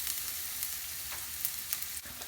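Chopped garlic, ginger and green chili fry quietly in oil for spinach and egg fried rice, giving a soft, steady sizzle with a few faint stirring scrapes.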